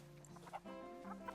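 A chicken in the zoo-building game Planet Zoo clucks in a few short, faint calls with a buzzy tonal quality, sounding quietly over a soft game background.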